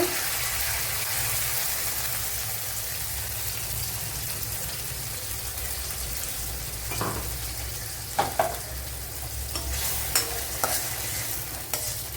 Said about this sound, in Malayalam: സവാള അരച്ച പേസ്റ്റ് ഇട്ട് കൊടുക്കുക.